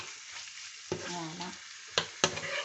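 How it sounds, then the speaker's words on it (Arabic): Liver fries in oil with a soft, steady sizzle, broken by a few sharp stirring clinks and scrapes in the pan, while someone speaks briefly. "فوالا لكم انا الكبده دائما نحب نجوزها في الزيت"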